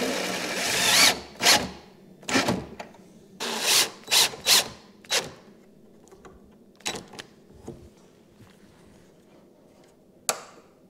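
Power drill driving screws into an electric desk build, several short whirring bursts close by, loud at first then sparser and quieter, separated by pauses with faint handling noises.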